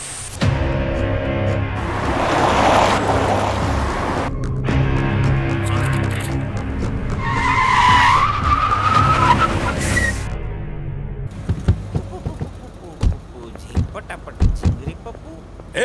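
A car brakes hard in a Hindi-dubbed South Indian comedy film scene, with a long tire skid and screech in the middle, set against loud music and other noise, and people talking around it.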